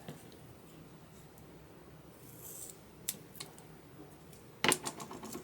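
Scissors cut through tape for framing a cross stitch piece, a faint soft rustle followed by a few crisp snips and one louder cluster of cuts near the end, with no voices.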